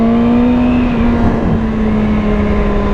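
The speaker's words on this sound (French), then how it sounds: "Le moteur vraiment commence à bien s'exprimer après 7000 tours." A BMW S1000RR HP superbike engine, rated at 230 horsepower, holds a loud, steady high-rev drone with a strong harmonic buzz, close up and unbroken, with no voices over it.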